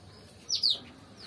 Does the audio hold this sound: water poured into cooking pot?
no